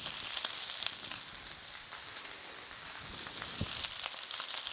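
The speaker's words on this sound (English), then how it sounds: "It seems a bit odd, doesn't it? Like kind of frying a bit of lettuce." Lettuce frying in a pan, a steady soft sizzle and crackle with no voices.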